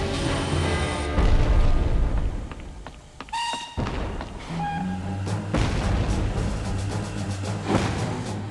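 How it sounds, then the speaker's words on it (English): Heavy guns pounding in the Jeff Wayne's War of the Worlds PC game as tripod fighting machines advance, a run of loud booming thuds and blasts over a dense rumbling battle din, with a brief lull and a high ringing tone midway. "The pounding of guns from the common grew louder."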